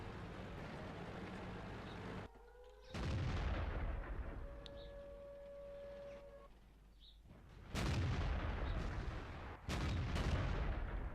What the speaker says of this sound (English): We fire our shot. We hit the tank.